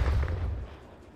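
A ZRG 20mm sniper rifle in Call of Duty: Cold War fires a single heavy, booming shot up close, its low thump loud at the start and decaying quickly into a fading tail.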